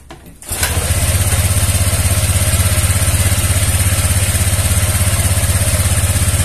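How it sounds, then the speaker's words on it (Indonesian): Honda Vario 125/150 scooter engine kick-started, catching after a short crank and then settling into a steady, loud, close idle with an even throbbing rhythm and no talking. "Jadi coba kita engkol dulu sebentar ya"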